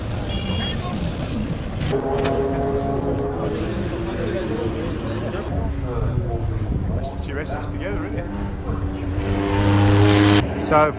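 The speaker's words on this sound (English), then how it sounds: "an opportunity to see children in their small cars have a go on the Le Mans" Small children's race cars run on the Le Mans circuit, their engines droning and revving steadily throughout with a rising burst near the end, under a busy crowd and talk.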